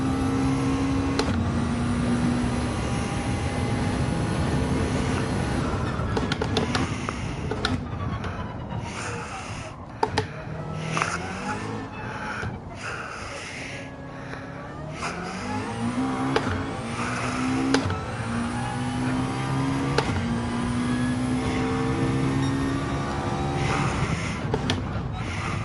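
A McLaren GT3 race car in Gran Turismo 7 revs hard through a lap, engine pitch climbing and dropping with gear changes, downshift blips and brief tire squeal, loud and continuous throughout.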